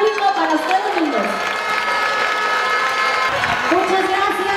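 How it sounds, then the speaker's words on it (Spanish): A large audience applauds and cheers at the Festival Mundial de Salsa in Cali during the 2015 eliminations: a loud, sustained wash of clapping and crowd noise that runs throughout, with a voice rising above it. "yo necesito un aplauso del público para ustedes mismos"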